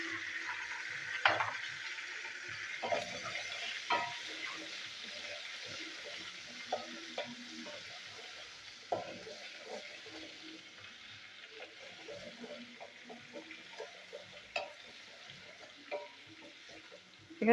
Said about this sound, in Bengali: এই একই তেলে আমি দিয়ে দিচ্ছি তেজপাতা ফোড়ন, দেবো রসুন বাটা।